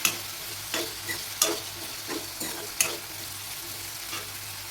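Tomatoes cooking with turmeric powder in a pan, a steady soft sizzle broken by repeated scraping stirs at an irregular rhythm, close and moderately quiet with no voices.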